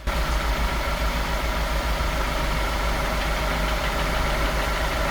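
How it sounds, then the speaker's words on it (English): A car engine idling with a knock from bottom-end damage, heard up close as a steady, continuous mechanical running with a rough, repetitive tapping woven through it, no voices. "you can hear the knock strongest near the lower part of the engine"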